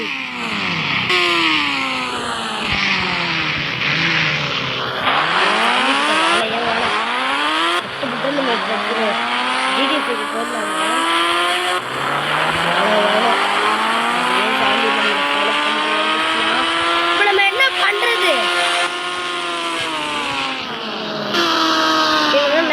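Loud, continuous engine whine rising and falling in pitch as the vehicle revs and shifts, with a voice talking over it throughout.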